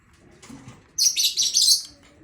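Close, bright bird chirps in quick overlapping bursts, loud and busy after a brief quieter moment.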